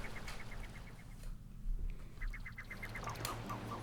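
Repeated honking, goose-like bird calls from the Super Mario Odyssey video game in the seaside kingdom, coming in short rhythmic bursts at moderate volume over steady background game music, fading midway and then returning.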